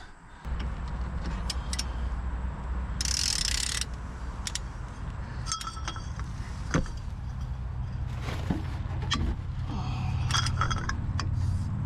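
Mechanical clicking and ratcheting of a wrench loosening 17 mm brake bolts on the front of a 2008 Honda Ridgeline, in short bursts over a steady low hum, close by with no talk.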